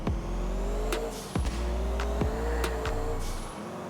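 A modded Comet sports car driving in GTA IV, its engine droning steadily with repeated sharp rev changes as gears shift, plus brief tire squeals, loud and close with no talking.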